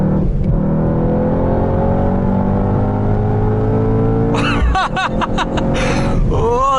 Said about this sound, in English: that AMG sports exhaust, the rattles, the bangs.